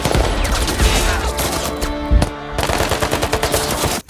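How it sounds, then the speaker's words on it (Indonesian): Loud, rapid bursts of gunfire crackle continuously, automatic fire overlapping with single shots in an intense, close firefight between soldiers and the Taliban at a dam in the film The Covenant. "Dan adegan tembak-tembakan pun terjadi."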